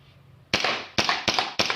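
A black ARMY R29 gun fires four sharp, loud cracks in quick succession, each an abrupt bang with a short decay, close by with no talking.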